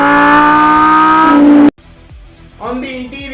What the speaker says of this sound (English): at the rear you will get the exhaust system from the Huracan Performante, which sounds like this